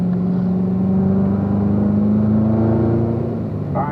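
A car pulls away and accelerates steadily on a track, engine tone climbing and sustained throughout, loud and close, with a brief shift in pitch near the end.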